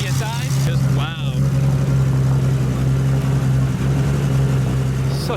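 An 1100 HP RB26-powered Nissan Skyline R34 GT-R with a large 7685 turbo idles on the street with a loud, steady, deep drone. Voices briefly cut in over the engine near the start.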